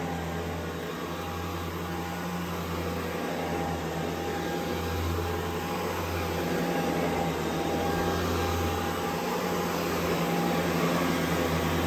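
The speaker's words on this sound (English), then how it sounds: "what I really like about this power nozzle is, like I said, it has a very pleasant sound" A Riccar Prima Tandem Air canister vacuum runs its power nozzle with a direct air motor, giving a steady whooshing, airy roar with a faint whine that stays even and close throughout.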